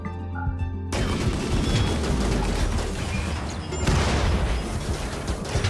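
Small autocannon firing in the colony-building video game RimWorld, a dense, loud stretch of rapid bursts with crashing impacts that kicks in abruptly after a quiet opening and continues without pause.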